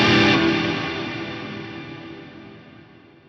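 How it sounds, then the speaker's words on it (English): A guitar sound on an Axe Fx III ends and its reverb tail carries on, a smeared, echoing wash that fades slowly and evenly over about three seconds. "my reverb trails there are preserved"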